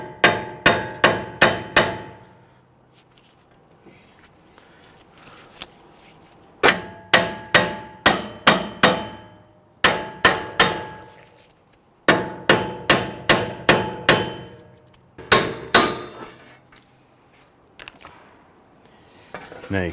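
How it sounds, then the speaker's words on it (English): Hammer blows on the back of a 2008-2013 Infiniti G37 front wheel hub to free it from the steering knuckle, coming in rapid bursts of five or six sharp metallic clangs with short pauses between groups, close and loud. "we're going to use a hammer and strike the back side of our wheel hub here"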